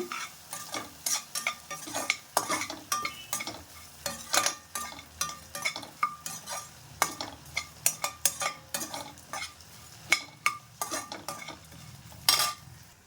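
Quick scraping strokes of a spatula stirring kurma ingredients in a hot pan, with a soft sizzle underneath and a steady, busy rhythm throughout.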